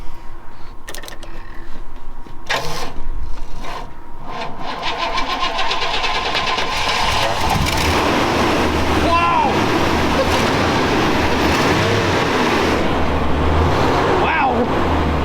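An old Chevy truck, left ten years in a pasture, cranks with a few clunks and turns over, then catches and settles into a steady, close engine idle while a person talks over it.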